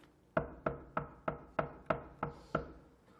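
Eight steady knocks on wood follow one another at an even, moderate pace, each a crisp close rap that fades quickly, in a quiet room with no talking.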